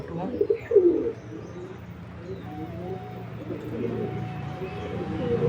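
A spotted dove coos in a few soft, low bursts near the start, then fades under a steady low background hum.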